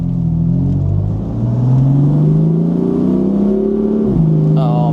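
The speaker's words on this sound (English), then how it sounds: "the sound from this engine is sublime" A 2018 BMW M4 engine pulls hard under acceleration with its dual clutch gearbox in automatic mode, loud and close, the tone climbing steadily before a quick shift drops the pitch.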